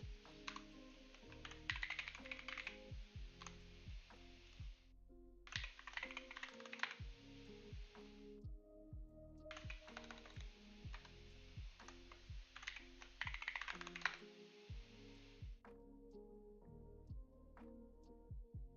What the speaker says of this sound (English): you guys can't see me typing my password and stuff